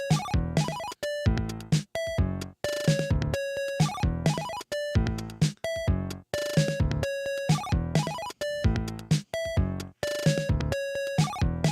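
Rapid, repeating synthesizer note pattern with sharp cutoffs, cycling in a steady arpeggiated rhythm with no one talking.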